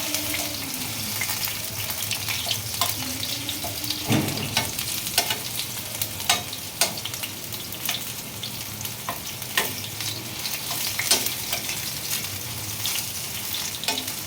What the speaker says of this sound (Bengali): ভেন্ডিটা আমার ভাজা হয়ে গেছে পুরোপুরিভাবে